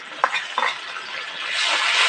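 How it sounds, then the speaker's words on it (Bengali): Ginger, garlic, green chili and onion paste frying in a pan for a village-style mushroom curry, with a steady close sizzle and a couple of soft stirring scrapes near the start. "এবার এর মধ্যে আদা রসুন কাঁচা লঙ্কা সব বাটা, পেঁয়াজ বাটা সব একসঙ্গে ভেজে দিয়ে দেবো।"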